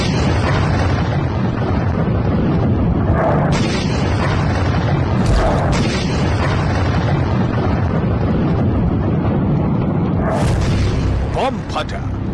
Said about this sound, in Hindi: बम फटा, जोर का धमाका हुआ।